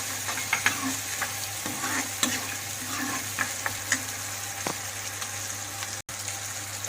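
Peas go into a sizzling onion-tomato masala for Indian aloo matar curry, frying steadily in the pan with repeated clinks and scrapes of stirring, close and continuous with no talk.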